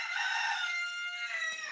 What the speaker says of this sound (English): A lot of people tell me when they hear the rooster,